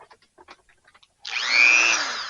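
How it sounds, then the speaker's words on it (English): A Dremel rotary tool cuts down to a wing nut during an MG mirror repair, starting abruptly after a few faint clicks and running as a loud, steady high-pitched whine up close. "I'm cutting it right to the wing nut. So I'm going to do that now. Actually, I'm going to use my Dremel"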